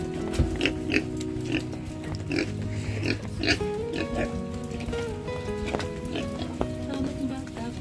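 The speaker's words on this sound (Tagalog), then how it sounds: "Apat na baboy." Four large pigs grunt and snort in short, irregular bursts at close range, mixed with background voices and some clatter.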